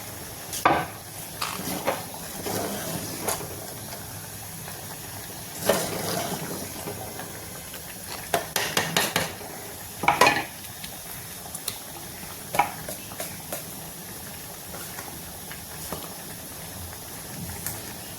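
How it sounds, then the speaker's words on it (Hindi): Rice cooks in a pot on an Indian home stove beside a spinach and paneer dish, giving a soft steady hiss and simmer broken by scattered clinks and stirring taps, with no talk. "इधर मेरा राइस बन रहा है"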